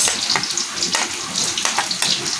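Onion going into a hot pan with leftover shrimp for sautéing, a steady bright sizzle with scattered crackles and stirring scrapes, close and fairly loud, no talk.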